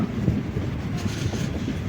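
Kollam-Punalur MEMU train running past Kundara station, heard from inside as a steady loud low rumble with wind buffeting and faint rail rattle, no talking.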